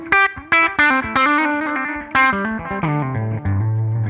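Overdriven electric guitar through a Line 6 POD GO plays a run of distorted notes and chords, loud and gritty, with sharp attacks and ringing sustain, descending toward lower notes at the end.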